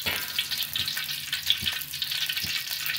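Snails stir-fry in oil tinted with annatto, a busy crackling sizzle with scraping stirring, steady and close throughout.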